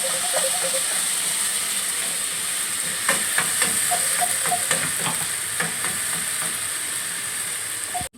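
Garlic-ginger paste fries in a pan for a crab roast, giving a loud, steady sizzle and hiss throughout. A few light spoon taps and scrapes sound over it, and no one speaks.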